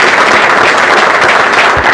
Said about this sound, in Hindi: एक बार सर के लिए अगेन फिर से दोबारा ताली बजा दीजिए।